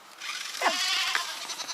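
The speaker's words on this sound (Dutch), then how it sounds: "Geitjes toch. Hoe ben die eruit kwam?" Goats that escaped through the fences on a farm bleat loudly nearby, with one clear wavering bleat in the middle and a shorter one after it, over continuous rustling background noise.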